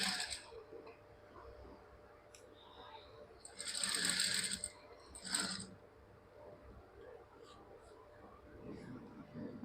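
A sewing machine stitches a half-inch seam allowance on a school uniform chudithar, heard as faint mechanical whirring in two short bursts with softer clicks scattered around them.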